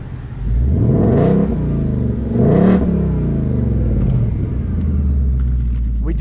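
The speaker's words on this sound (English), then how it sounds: "We do got active exhaust on here" Ford Mustang GT V8 with active exhaust revved twice in quick succession, each sharp rise falling back to a loud, close, rumbling idle, with no talk.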